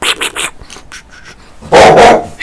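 An American pit bull barks nearby, with a quick run of sharp barks followed by softer yips and one loud, harsh burst at the end.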